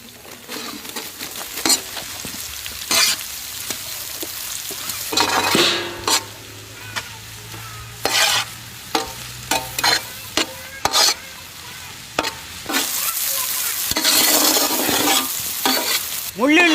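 Onion and curry leaves sizzle in a pan, a steady frying hiss broken repeatedly by sharp scrapes and clinks of a spoon stirring against the metal.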